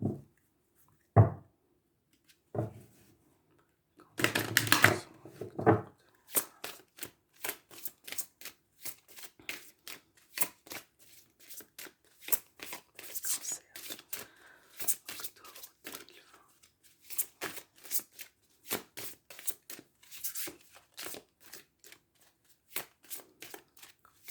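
Tarot cards being shuffled and cut during a horoscope reading, with a few sharp handling knocks and a riffle burst early on, then a long run of quick, crisp card flicks and slides close by, with no talking.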